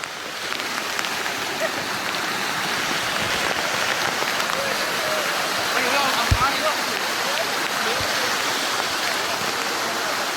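Steady, loud rushing water roars throughout, a broad continuous wash of monsoon runoff flowing down the old stone steps of Girnar hill, Junagadh, with a couple of low thumps, and voices faintly beneath.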